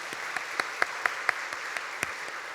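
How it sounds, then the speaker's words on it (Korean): A church congregation claps for the choir conductor after a hymn. The clapping is sparse and fairly faint, with individual claps standing out in a loose rhythm over a quiet room. "우리 지휘자 선생님 우리 박수 한번 쳐드리겠습니다."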